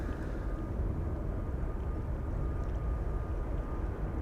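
A Delta Airlines jet at Schiphol Airport, a steady, heavy engine roar with a faint whine running through it, constant and moderately distant, with no voices.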